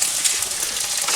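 Smallmouth bass frying in a skillet, a steady close hiss of sizzling oil with fine crackling pops throughout, no voices.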